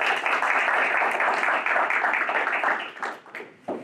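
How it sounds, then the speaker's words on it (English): An audience claps for Dr. Justin Robertson, a school district superintendent, at a chamber of commerce event: dense, steady applause that holds for about three seconds and then thins and fades out. "Let's give a big round of applause for Dr."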